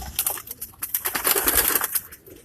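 A Ferozpuri pigeon, king-size and kept for sale, coos softly and continuously at close range, with light rustling around it and no talk.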